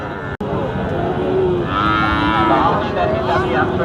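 Cattle moo loudly and steadily at a busy livestock market in Sirajganj, Bangladesh, where heifers are sold. A long, close low call swells through the middle over constant market din.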